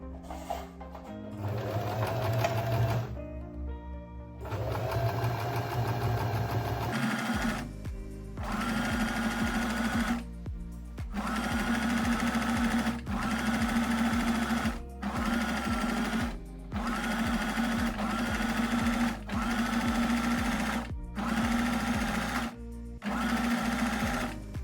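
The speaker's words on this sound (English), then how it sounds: "we're going to sew directly down the middle to create your spaghetti straps" A domestic sewing machine stitches down the middle of a narrow fabric spaghetti strap in repeated runs of steady whirring and needle rattle, broken by short pauses between bursts.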